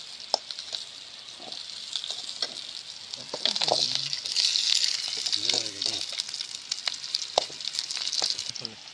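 Curry leaves and onions sautéing in a pan, a soft steady sizzle with light scraping and clinking of a spoon stirring, a voice speaking briefly over it.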